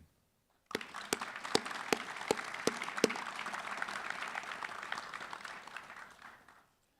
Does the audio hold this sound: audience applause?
yes